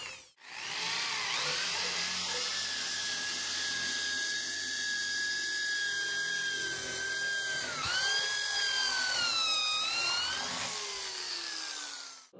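Bosch multi-construction drill bit boring into wood, a steady high whining drill tone that holds for several seconds, then dips and rises again as the load changes.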